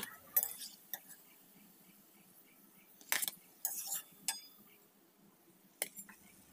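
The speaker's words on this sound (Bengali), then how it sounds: "এখন মিষ্টিগুলোকে আমি একটি প্লেটের মধ্যে তুলে নিচ্ছি" Fried langcha sweets are lifted onto a plate, giving a few scattered clinks of utensil against dishware. The knocks come in brief, separated bursts over a quiet kitchen background.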